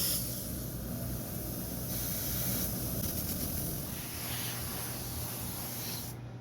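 Pearl white paint sprayed onto a goldfish fishing lure makes a steady, close hiss that runs almost unbroken for several seconds before stopping abruptly.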